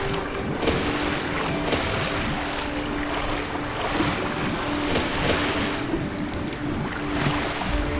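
Steady rushing water with bubbling and surf-like washes in the Lego Fortnite video game, continuous and fairly loud with gentle periodic swells.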